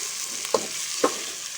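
Chopped onions frying in hot oil for village-style aloo palak give a steady close sizzle, with two sharp spattering pops standing out, no voices over it.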